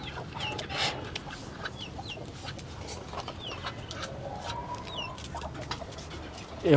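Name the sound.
ducks being let out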